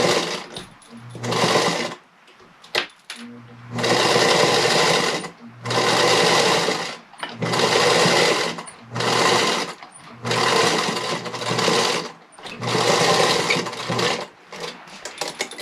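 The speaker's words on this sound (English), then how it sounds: "put this in my sewing machine and sew it as close to the edge as I can" A domestic sewing machine stitches close to the edge of a thick fabric doll in loud, close bursts of rapid whirring, about seven runs of one to two seconds separated by short pauses.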